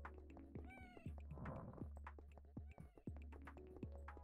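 Repeated meows from a cat in a PS1 horror demo game, a series of distinct mews at irregular intervals over a constant low drone, with no voices.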